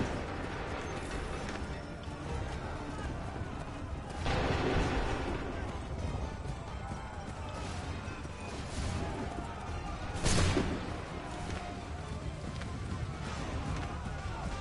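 Musket volleys on command in Assassin's Creed 3, two loud bursts of massed gunfire several seconds apart over a busy battlefield din with shouting voices.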